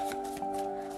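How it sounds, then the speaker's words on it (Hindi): Tarot cards shuffled by hand in a few soft, quick papery riffles, close up, over a steady tonal hum. "शफल कर लेते हैं कार्ड्स को"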